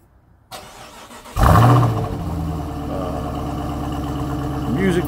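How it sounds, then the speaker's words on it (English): A Trackhawk car engine cold-starting after sitting unused for days: the starter catches, the engine flares with a loud, rising roar, then settles into a steady, rumbling high idle close by. "we're going to start off with a nice cold start, guys. This is really cold. I haven't started this car in a couple days"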